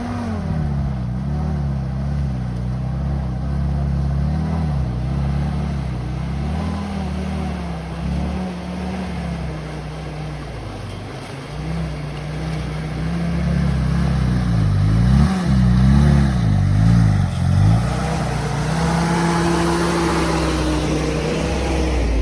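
A Willys M38 Jeep engine runs with a continuous low rumble that rises and dips as it is revved and driven, close and loud throughout, with a voice speaking over it near the end.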